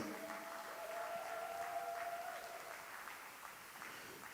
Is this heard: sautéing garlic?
no